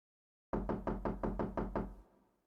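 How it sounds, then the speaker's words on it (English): Someone knocks on a door: a quick, even run of about eight firm knocks, close and clear, then silence. "A set of knocks met Ganyu's ears"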